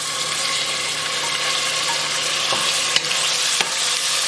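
Onion, ginger, garlic, dried chili and tomatoes sauté in a pan for lentil soup with a steady, close sizzle and a few sharp stirring clicks near the end, with no voices.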